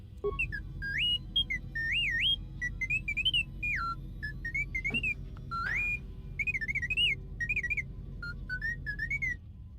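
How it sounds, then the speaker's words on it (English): Small robot droid from a Star Wars Jedi video game chirping and beeping in rapid, rising and falling electronic whistles, repeated bursts over low background game ambience, with no talking. "you're just beeping and I don't know what you're saying"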